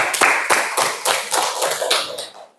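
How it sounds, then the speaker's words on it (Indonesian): An audience in a classroom gives a brief round of applause, about ten uneven claps from a small group, close and fading out at the end. "Tepuk tangan dulu dong."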